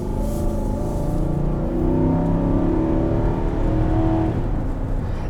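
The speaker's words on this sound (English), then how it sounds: "you have a big honkin' V8 up in front with a great intake note" A 2023 Infiniti QX80's big V8 gives a loud, steady intake drone from the driver's seat, swelling slightly as the SUV pulls. The engine stays close and constant throughout, with no talking.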